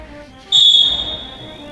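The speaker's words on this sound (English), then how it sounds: "That's a loud whistle, isn't it?" A whistle bought for a jai-alai match gives one loud, sharp, high blast that sounds abruptly and then tapers off over steady background noise.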